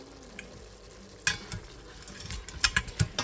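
Diced onion, taco seasoning and garlic salt stirred around in a pan, a low sizzle broken by several scraping utensil strokes and clinks in quick succession, near and without talking.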